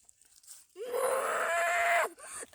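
A man imitates an ox lowing with one sustained, loud, drawn-out moo lasting over a second, rough and groaning, heard alone in a garden setting.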